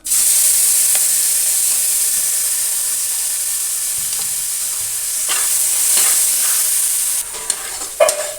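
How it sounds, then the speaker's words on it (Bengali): Tomatoes hitting hot oil already holding bay leaf, dried red chilli, whole garam masala and cumin, a loud continuous sizzle and hiss that carries on steadily with a few stirring scrapes near the end. "এবার এর মধ্যে টমেটোগুলো দিয়ে দিচ্ছি"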